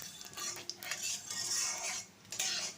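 A utensil scrapes and clinks against a wok while tempering spices fry in two spoons of oil, giving several light metallic stirring strokes with a soft hiss beneath.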